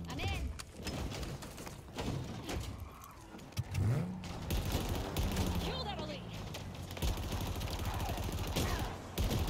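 Gunfire and a fusillade of shots from a Halo Infinite campaign battle against incoming enemy vehicles, layered with engine rumble and game effects, with players talking over the action throughout.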